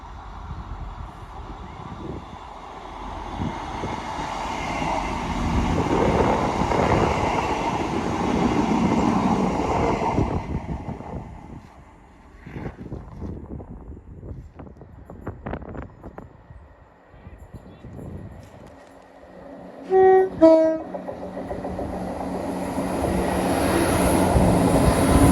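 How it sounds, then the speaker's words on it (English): A pair of ScotRail Class 158 diesel multiple units on a Perth to Edinburgh service rumbles closer and roars past at a bridge, with the engine noise swelling, rattling wheel beats, then fading into distance with a brief high-pitched tone. "Approaching us now is the 1 Lima 78. This is a ScotRail service from Perth to Edinburgh Waverley with 158 718 and 158"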